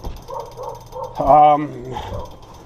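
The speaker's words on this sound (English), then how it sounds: "Excuse the dog from barking." A dog barks a few times nearby, short sharp yaps mixed in with someone talking in the foreground.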